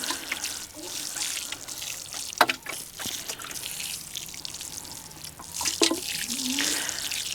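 Water poured or sprinkled over newly planted garlic in a garden bed, a steady close splashing and trickling that swells and eases, with a few sharper knocks and clatters along the way.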